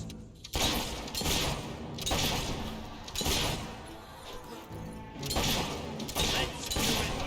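Gunfire in the video game Fable, with bursts of shooting and crashing impacts coming in repeated waves of a second or so, loud and close, under game combat noise.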